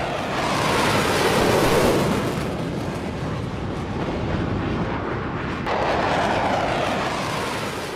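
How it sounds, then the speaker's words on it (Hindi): Ukrainian fighter jets flying at low altitude make a loud, continuous broadband roar that swells and eases over several seconds, with no voices. "देखिए कितनी कम ऊंचाई पर उड़ान भरते हुए दिखाई दिए हैं ये फाइटर जेट।"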